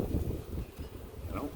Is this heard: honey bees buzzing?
yes